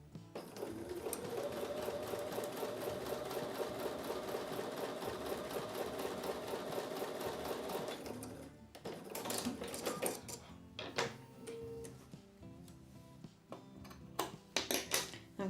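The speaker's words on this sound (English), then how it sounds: "I'm going to continue sewing down on top of the line on the left hand side" A sewing machine stitches a Martha Washington Star quilt block in a steady, fast run for about eight seconds, then continues in shorter bursts with small clicks and handling noises.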